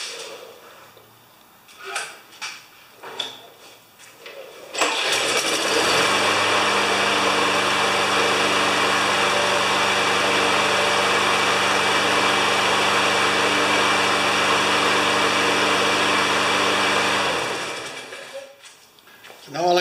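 A newer Briggs lawn mower engine that had refused to start comes to life after a few pulls and handling noises, then runs at a loud, steady idle for about twelve seconds before shutting down, with brief talk nearby.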